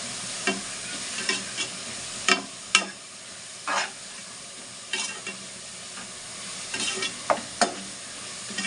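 Onions sautéing with salt for mutton biryani sizzle steadily up close, broken by repeated sharp scrapes and clatters of stirring at irregular intervals, with no talking.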